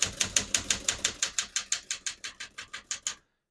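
Rapid, evenly spaced keystrokes clatter on a 1964 Smith-Corona Galaxie portable typewriter, about fifteen crisp mechanical strikes in a steady rhythm, close and clear, then stopping abruptly into silence.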